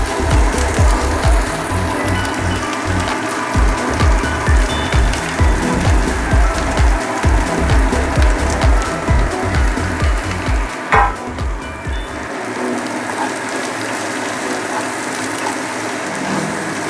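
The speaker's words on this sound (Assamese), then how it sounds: "এইখিনি আমি অলমষ্ট ল' ফ্লেমত ব্ৰাউন হোৱালৈকে ফ্ৰাই কৰিব লাগিব" Chopped onions, added after bay leaves, fry in oil over a low flame for chicken gravy, giving a steady, close sizzle with soft stirring scrapes that runs without a break.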